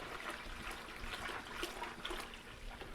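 Juice pours steadily into a 2.5 gallon brew bucket, making a faint, continuous splashing trickle for a few seconds with no voices.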